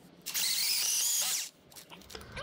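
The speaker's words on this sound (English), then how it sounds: "Slow with a good amount of pressure is how you usually get these big drill bits to work." A power drill with a large bit spins up and bores into a 350 small-block Chevy engine block for about a second, a loud close whine, then stops, leaving faint handling noises.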